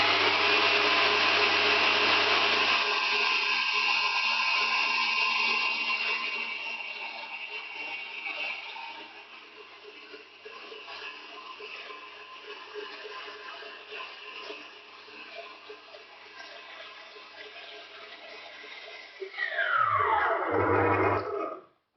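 An electric mixer whirs steadily as it whisks egg whites into French meringue, loud at first, then softer and even, before a brief louder surge and sudden stop.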